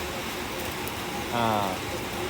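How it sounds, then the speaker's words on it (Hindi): Heavy rain pours in a steady broadband hiss throughout, heard from an Amrit Bharat Express train passing near Saharanpur, with a brief louder passage of a rumbling, tonal whine midway. "और बारिश हो रही है भैया बहुत तगड़ी।"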